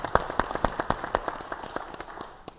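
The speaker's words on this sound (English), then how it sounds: "So let's give him a round of applause." Scattered, uneven handclaps from a small panel audience at a regional public safety discussion, a dozen or so sharp claps thinning out over a few seconds with no voices.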